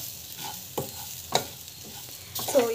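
Semolina (rava) being stirred and sautéed in a pan, with soft scraping strokes over a faint sizzle and a few sharper clinks of the spoon against the metal, close and fairly quiet.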